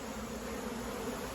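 Honey bees buzzing around a smoked hive, a dense, steady, low drone of many insects close by, unbroken and with no talking.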